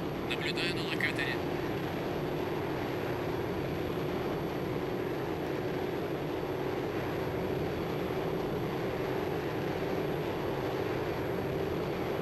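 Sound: F-8J Crusader jet taking off in Strike Fighters 2 video game

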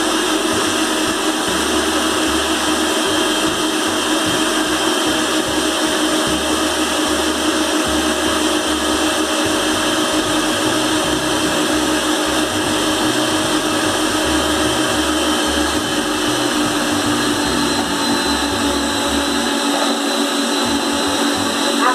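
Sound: electric mixer beating cornmeal cake batter

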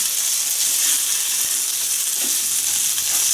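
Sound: hoi tod (fried oyster pancake) frying crisply in a pan

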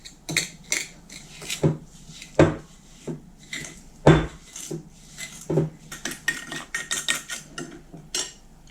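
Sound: mashing yeast with sugar in a bowl

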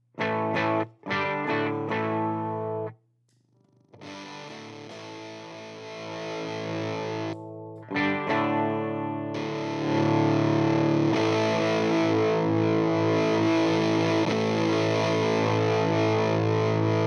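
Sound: silicon fuzz guitar pedal distortion, resistor substitution box

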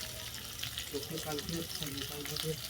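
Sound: frying kohlrabi and potatoes in a pan

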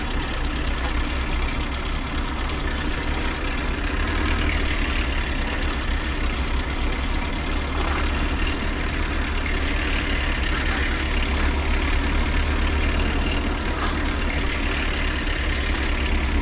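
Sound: Nuffield tractor engine idling

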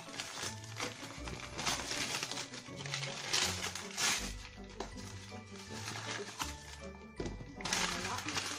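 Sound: unwrapping taped gift paper

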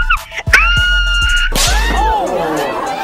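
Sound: person screaming

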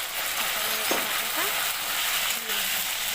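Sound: ginger and green chilli frying in a pan

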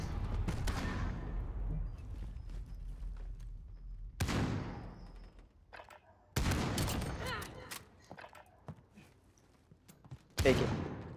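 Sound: sniper gunfire in video game Call of Duty Modern Warfare

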